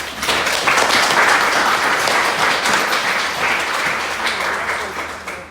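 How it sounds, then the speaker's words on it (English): An audience at a spiritualist trance demonstration in Australia breaks into sustained applause, dense clapping that stays loud and even for several seconds before tapering slightly at the end. "Welcome her by giving her a big round of applause."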